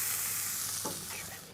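Rump steak sizzles in a hot pan, a steady quiet hiss of frying with a brief clatter as the meat is set back down, close and alone.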